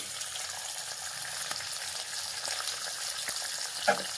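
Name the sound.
onions frying lightly in pan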